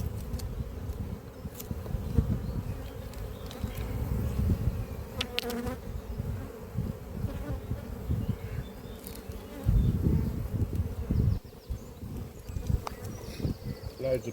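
Honeybees in an opened hive at an apiary, the colony full of pollen and stored nectar, hum in a dense, continuous buzz, with individual bees droning close by.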